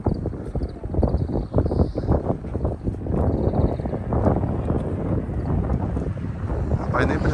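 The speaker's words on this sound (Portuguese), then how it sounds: "Tá ventando muito porque é o mar já." Strong seaside wind buffets the microphone in heavy gusty rumbles along a coastal road in Tottori, with people talking over it.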